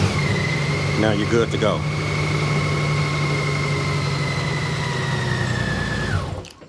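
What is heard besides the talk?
Honda Goldwing motorcycle engine cranked and idling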